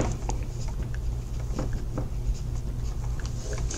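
Notes being written by hand while studying neurology, a faint, soft scratching of light strokes over a steady low background hum, with no voices.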